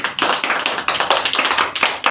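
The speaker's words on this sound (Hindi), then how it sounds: "चलो समस्त ताली मारो" Children clap their hands in an uneven, lively patter of many claps, close and fairly loud, with no voices over it.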